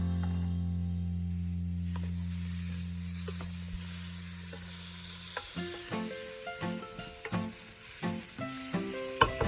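Tomatoes for a tomato curry sizzle steadily in a hot pan, with a constant frying hiss. Partway through, a utensil starts stirring and scraping, adding a run of irregular clinks and taps over the sizzle.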